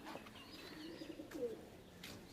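Pigeons at a loft coo softly as they are let go, a faint, low, throaty cooing with a few small chirps, heard alone and quiet.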